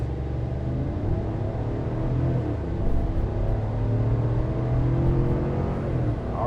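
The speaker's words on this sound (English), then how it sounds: "let's talk about that engine here for a second as we get going from a standstill" A 2025 GMC Yukon AT4 Ultimate's V8 engine rumbling and building as the SUV pulls away from a standstill, a deep steady drone heard from inside the cabin, no talking.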